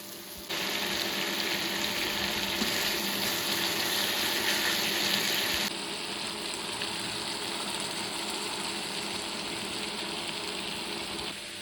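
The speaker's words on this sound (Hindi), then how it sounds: "उसके लिए मैंने सबसे पहले तड़का प्रिपेयर करना शुरू कर दिया" Hot oil tempering spices for a cauliflower curry in a home kitchen, giving a loud, steady hiss and sizzle that carries on without a break, easing slightly partway through.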